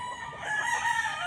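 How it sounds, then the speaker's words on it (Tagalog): Chickens on a small backyard farm holding over 500 birds, with a rooster crowing over a steady background of clucking fowl, fairly close and unbroken through the short moment. "Nasa higit 500 ata na manok to dito."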